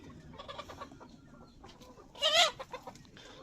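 Country chickens on a small farm flock cluck softly and steadily in the background, with one louder, sharper burst of calls near the end; no voices are heard.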